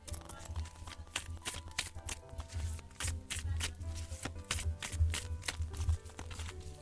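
Tarot and oracle cards shuffled by hand, a dense run of quick riffling flutters and soft card slaps, close and quiet, with no speech.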